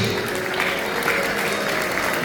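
An audience at a school investiture ceremony applauds, a loud, continuous wash of many hands clapping without pause.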